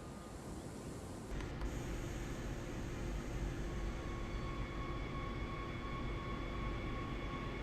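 An S-Bahn train in Train Sim World pulls away from Dessau Süd station with a steady low rumble and broadband motor noise. Faint tonal whines emerge and climb partway through, with no talking.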